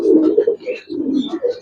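Giribaz and colouring pigeons at a sale, all recently vaccinated, coo in low throaty bursts, two or three close, fairly loud phrases with brief gaps and no talk.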